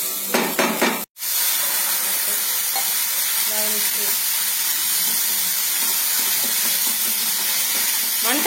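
Water poured into frying curry masala in a pan sets off a loud, steady hissing sizzle after a brief scraping start and a sharp click, continuing unbroken to the end.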